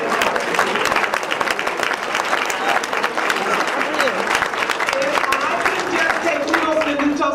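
Banquet audience applauding at an indoor dinner event, a loud dense wash of many hands clapping continuously throughout, with a few voices and cheers mixed in.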